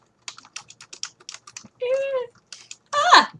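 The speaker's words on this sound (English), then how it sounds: "can you type that real fast?" Quick bursts of typing on a computer keyboard, a run of close, light clicks broken by two louder, longer sounds partway through and at the end.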